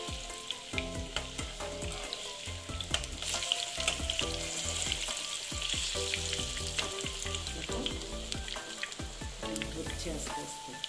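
Bread pakora frying slowly in oil in a pan, a steady bubbling sizzle with fine crackles and occasional stirring clinks, close and constant throughout.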